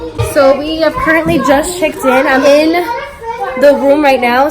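Children play and chatter in the background of a hotel room at Great Wolf Lodge in Texas, their voices faint and continuous beneath a close speaker talking steadily throughout.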